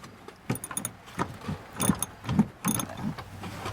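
Ratchet clicks while loosening the flange nut bolts on a 2010 Lexus RX 450h tail light assembly, with several short bursts of close, sharp mechanical ratcheting and clinking.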